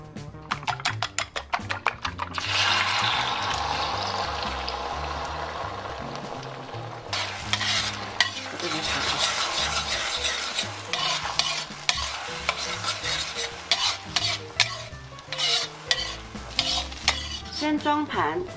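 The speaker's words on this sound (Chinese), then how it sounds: "先下油把蛋炒好" Eggs stir-frying in hot oil in a wok, with steady sizzling and frequent scraping, clacking strokes of a spatula against the pan, continuous and close.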